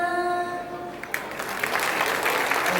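Audience clapping at a talent awards show in Tamil Nadu, a broad steady wash of applause rising after a sung melody fades out, filling the rest of the short stretch.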